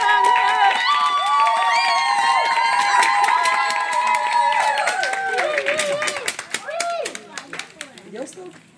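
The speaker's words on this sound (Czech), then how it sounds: "zatleskáme našim oslavenci!" A child's birthday party audience claps and cheers loudly, with shouts and children's voices mixed in, the applause thinning into scattered claps toward the end.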